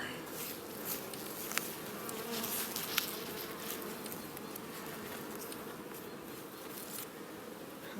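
Dense, close buzzing of a crowd of honeybees around a hive, steady throughout, with a few faint clicks and taps mixed in.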